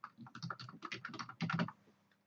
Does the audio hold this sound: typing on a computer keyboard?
yes